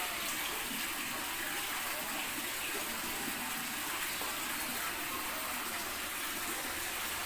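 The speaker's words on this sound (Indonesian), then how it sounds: "Nah, kita tampung airnya." Steady gushing water drained off separated coconut milk while making virgin coconut oil by traditional methods, a continuous even pour with no breaks for the whole stretch.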